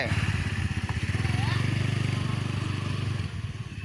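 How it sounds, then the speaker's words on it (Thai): A motorcycle engine accelerating close by, a throbbing, even drone that holds steady and then eases slightly near the end. "เร่งเครื่องให้มันได้ระยะมัน ให้พอดีพอดีเรารู้ขนาดมันการระยะให้มันได้"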